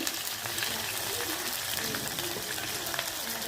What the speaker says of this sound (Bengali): পেঁয়াজ দেওয়া হলো, এই যে পেঁয়াজ রান্না করছেন আমাদের।